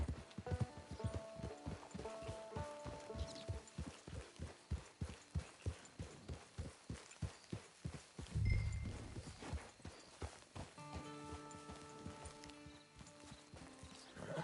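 Horse hooves clip-clop at an even walking rhythm, close and clear, with a brief pause midway and soft tonal sounds at the start and end.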